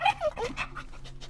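A small female dog howls up close in a series of short, wavering cries that rise and fall, with panting-like breaths between them.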